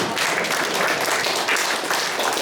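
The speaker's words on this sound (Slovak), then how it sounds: "Zatleskejme Pánovi" A church congregation claps together for the Lord at a service, a dense, loud, steady wash of hands with no voices.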